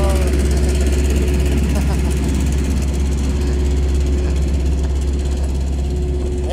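A low bed truck engine running after being hot-wired around a broken ignition switch, a steady close idle with a deep low rumble that holds unchanged throughout, no talk over it.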